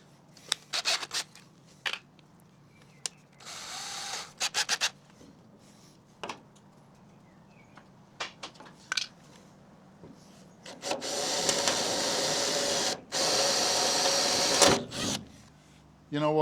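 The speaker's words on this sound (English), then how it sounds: "always start off with a small pilot hole and work your way up" A small pilot hole is drilled in steel while a South African braai is installed in Australia: scattered clicks and scrapes, then two sustained bursts of harsh grinding noise of a few seconds each, close and fairly quiet.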